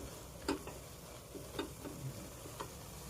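Tomato curry being stirred in a pan after sambar powder goes in, faint scrapes and clicks of a spoon over a soft, low sizzle, with no one talking.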